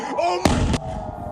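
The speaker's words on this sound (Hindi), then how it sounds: "It's a motherfucking rocket!" A rocket strikes during an Iranian attack on Jerusalem, giving one sudden sharp blast that lingers for about a third of a second over a background of agitated voices.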